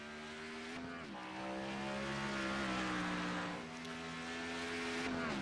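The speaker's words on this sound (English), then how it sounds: "You hear that car really struggling for grip." A race car in the iRacing sim at Sonoma Raceway, its engine drone wavering with wheel hop as it struggles for grip, steady and loud with pitch dips and recoveries throughout.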